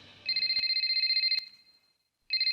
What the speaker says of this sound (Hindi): हे केन, ये उसी का फोन है, इसे रिकॉर्ड करो प्लीज